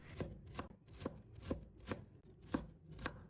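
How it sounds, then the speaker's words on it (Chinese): A knife dices a vegetable into small cubes on a cutting board in a home kitchen: about seven crisp, evenly spaced chops, close and clear, with no talking. "然后切成小丁"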